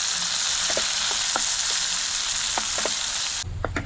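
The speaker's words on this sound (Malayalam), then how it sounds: "നമുക്കത് ചേർത്ത് കൊടുക്കാം. നന്നായിട്ടൊന്ന് വഴറ്റി കൊടുക്കാം." Tomatoes sautéing with onions in a hot pan, a loud continuous sizzle with occasional spatula scrapes and pops, ending in an abrupt cut to a quieter room.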